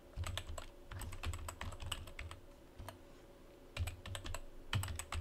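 A new password is typed on a computer keyboard in quick irregular bursts of crisp key clicks, with short pauses between bursts, close and fairly quiet, no talking.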